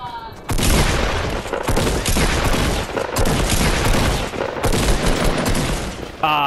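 Gunshots in Fortnite battle royale, a loud continuous barrage of heavy fire and booms filling nearly the whole stretch, close and dense with hardly any pause.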